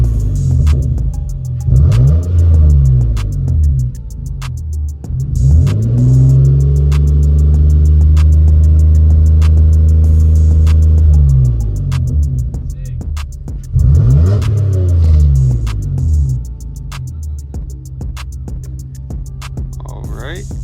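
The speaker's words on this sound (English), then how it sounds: "we're going to put the car in neutral and rev it to show a different engine speed and engine condition." A car engine revved in neutral in an automotive lab, rising and falling in two or three sustained revs over a steady idle rumble, close and loud.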